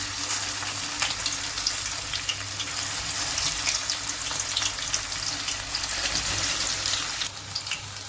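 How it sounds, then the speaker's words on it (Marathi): Methi vadas fry in hot oil with a dense, steady, close crackling sizzle throughout, loud and uninterrupted, with no talk. "तेल तापलेलं आहे। त्यात आपण वडे टाकूया।"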